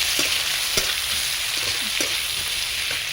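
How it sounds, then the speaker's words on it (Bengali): Chopped onions fry in oil for a Bengali kakrol and prawn dish, a steady close hiss of sizzling punctuated by several sharp stirring knocks and scrapes against the pan, with no voices. "পেঁয়াজ লাল লাল করে ভেজে নেব"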